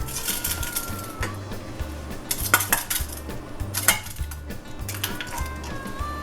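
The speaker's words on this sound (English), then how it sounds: "And you just want to scramble those eggs up. This is going to be your egg wash." Metal utensil rapidly beating three eggs in a bowl into an egg wash for breading squash, a steady clattering whisk rhythm with occasional sharper clinks against the dish, close and fairly loud with no talking.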